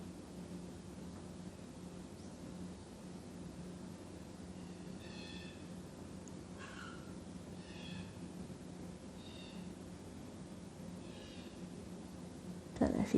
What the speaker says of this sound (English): lots of birds outside squawking away